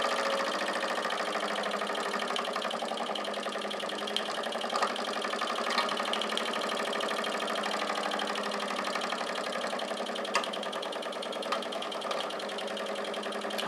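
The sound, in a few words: model steam engine running slowly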